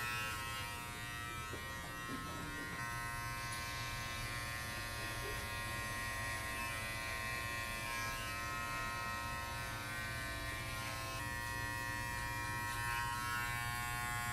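Electric hair clippers buzzing continuously up close while cutting a skin fade, a steady motorized hum with slight shifts in tone as the blade moves through hair.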